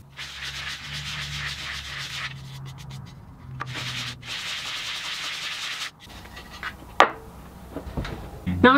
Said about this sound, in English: I'm gonna flatten out both surfaces using a piece of sandpaper.